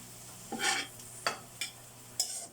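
Pancit noodles dropped into a hot pan and stirred as they fry, giving short bursts of sizzle and scraping strokes, close and fairly quiet, with no talking.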